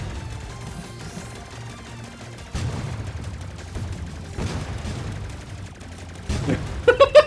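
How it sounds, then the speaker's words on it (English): Homing missiles launching in a video game: a busy stream of rapid firing pops and booms, building in intensity, with a few louder bursts near the end and some game noise underneath. "Go forth, my little homing missiles."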